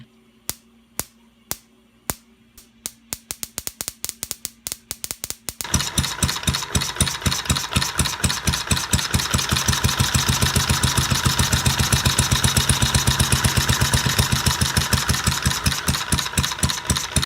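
A small engine on battery-powered electronic ignition fires in slow, isolated spark pops that speed up, then catches and runs in a fast, loud, steady chatter of combustion pulses, close and alone.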